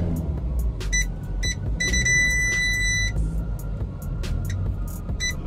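A car being parked at a home, low idling engine rumble under a string of short electronic beeps and chimes, with faint clicks and thumps around it.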